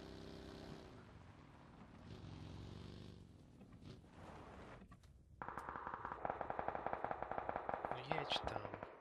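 Automatic gunfire in the PUBG video game rattles in a fast, steady burst of sharp shots through the latter half, preceded by vehicle engine noise and voices talking.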